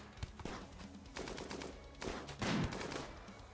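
A Doomsday rocket launcher in the video game RimWorld fires, giving several sharp blasts and rumbling explosions in quick succession, loud and close with no talk over them.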